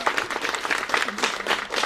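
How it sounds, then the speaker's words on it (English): Audience applause at a dance interview event, a brisk, moderately loud burst of many hands clapping with no talk over it. "let's give Kelly a big round of applause"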